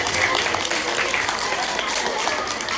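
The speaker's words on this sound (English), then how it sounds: "Give them a round of applause as they go back to their seats." Students at a school assembly give a short round of applause, a steady patter of many hands in a room with faint voices mixed in.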